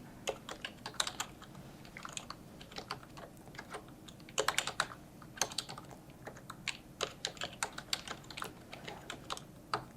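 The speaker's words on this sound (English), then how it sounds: "Go ahead and type in your last name." A computer keyboard being typed on to enter a last name in an online account form, with irregular bursts of crisp key clicks, close and fairly quiet, with no talking.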